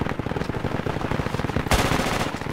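Rapid automatic gunfire in Project Reality, a continuous rattling stream of close shots at an even rhythm that grows louder and denser in the final second.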